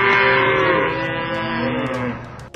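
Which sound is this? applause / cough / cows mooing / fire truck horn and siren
cows mooing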